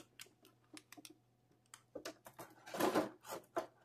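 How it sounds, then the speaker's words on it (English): Action figures pulled free of crinkly plastic packaging, with scattered light crackles and rustles building to a louder burst of crinkling near the end, close up and with no talking. "Get them out of this plastic here."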